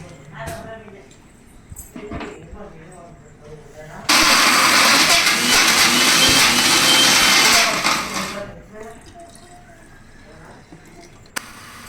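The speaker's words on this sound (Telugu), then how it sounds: "ఇలా మిక్సీ పట్టుకున్న తర్వాత" Electric mixie mixer grinder churning soaked rice and fenugreek dosa batter, a loud dense whirring roar that lasts about four seconds and then spins down, with someone talking before and after it.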